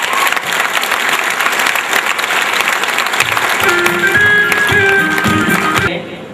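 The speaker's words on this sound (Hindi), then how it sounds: "एक बार ताली बजा देंगे थोड़ी देर आप।" An audience at a talk claps together, dense sustained applause that fills the room from start to finish, with a brief tonal chime and some crowd murmur in the second half before the clapping cuts off abruptly.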